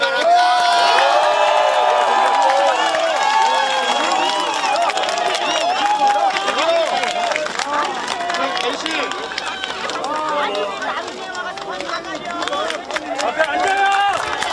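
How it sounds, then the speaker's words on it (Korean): A crowd at a Korean political campaign rally in Incheon cheers, shouts and claps continuously, a loud dense roar of many voices with whoops rising over it throughout. "이재명 대표님과 인천의 후보들을 큰 박수로 맞이해 주시기 바랍니다"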